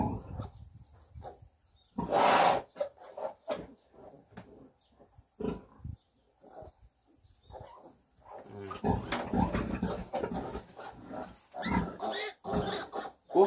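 Piglets of a black-snouted breed are handled before an iron injection, squealing and grunting in loud bursts with short quiet gaps, the cries growing busier and more frequent toward the end.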